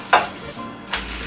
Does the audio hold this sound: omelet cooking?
yes